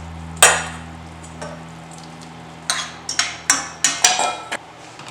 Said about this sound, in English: I'm gonna add my shrimp now.